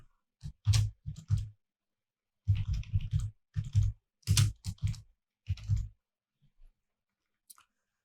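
Typing on a computer keyboard comes in short clustered bursts of close, crisp key clicks separated by brief pauses, fading to a few isolated taps at the end.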